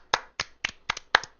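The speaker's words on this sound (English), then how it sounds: "They can hear me clapping." Six sharp hand claps in an uneven rhythm, close and fairly quiet, each a crisp burst separated by short silences, with no talk.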